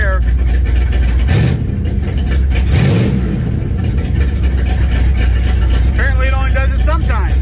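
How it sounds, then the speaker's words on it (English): A 1968 Dodge Charger R/T V8 with a Holley Street Dominator intake revs loudly and steadily close by, its throttle hesitating off idle, while a voice speaks briefly near the end. "I want to say it's running better, but I still have a little bit of hesitation in the throttle."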